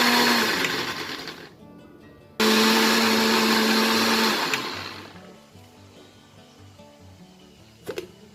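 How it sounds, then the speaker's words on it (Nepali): A grinder jar whirs loudly as it blends soybean pickle puree with water, running in bursts with brief stops and restarts before winding down, then a faint clunk near the end. "यसलाई अब एकदम टाइम दिएर हामीले 15 सेकेन्ड जति मजाले ग्राइन्ड गर्नुपर्ने हुन्छ"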